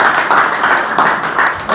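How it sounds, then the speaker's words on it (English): An audience claps steadily at a U.S. military lieutenant colonel's promotion ceremony in Hawaii, with a dense, even patter of many hands close to the microphone. "so you can give them a round of applause"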